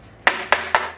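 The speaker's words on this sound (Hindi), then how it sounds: "टैप टैप कर लिया, जो एयर बबल्स रहेगा वो भी निकल जाएगा" A cake tin of grape cake batter is tapped against a surface three times in an even, quick rhythm, each knock short and clear against a faint low hum.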